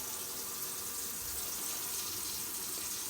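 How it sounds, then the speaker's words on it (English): Kitchen sink tap running steadily after a garbage disposal replacement, a continuous broadband rush of water splashing into the basin, close and even throughout with no talk. "Turn the water on."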